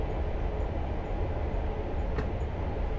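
London Underground train running toward Piccadilly Junction on the line to Heathrow, a steady loud rumble and roar from inside the cab with a brief high squeal near the end.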